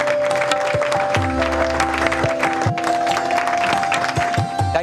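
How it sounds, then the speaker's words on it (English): Shareholders at the Reliance AGM clap together in a steady, sustained wave of applause filling a large hall, with music tones sounding underneath. "let's applaud Isha and the entire retail team for their superlative achievements"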